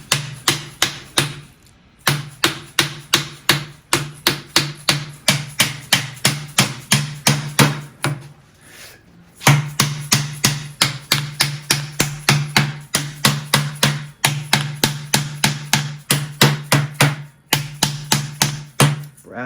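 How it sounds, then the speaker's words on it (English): Brass hammer tapping parts into a VW bus axle during restoration, a long run of sharp metallic strikes in steady rhythm, broken by two short pauses, close and clear with no talking. "Brass hammer, guys, brass hammer."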